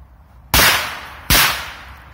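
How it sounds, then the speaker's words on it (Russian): A Korsar-3 firecracker goes off with two loud, sharp bangs about three-quarters of a second apart, each followed by a short fading echo against quiet outdoor background. "корсар третий на 2 взрыва"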